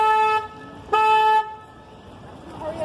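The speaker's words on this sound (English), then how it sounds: "Now, I want to honk the horn twice, folks." A river tour boat on the San Antonio River Walk sounds its horn twice, two loud, steady harmonic blasts close by, each about half a second long and separated by a short pause, followed by quieter background noise.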